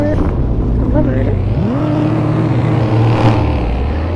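A truck engine in an off-road roleplay video game loudly revs and accelerates, its pitch climbing steadily around the middle of the stretch over a continuous low rumble.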